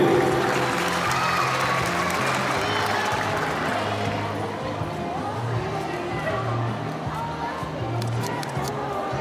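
Applause from the crowd at a municipal celebration in São Sebastião do Umbuzeiro as the health secretary is received, a continuous, fairly loud roll of clapping with some low background rumble and murmur beneath.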